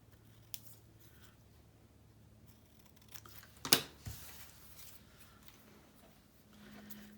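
Scissors snipping paper or fabric while making multi-pocket craft pages, a couple of quiet cuts with one sharp, crisp snip in the middle, close and alone in a quiet room.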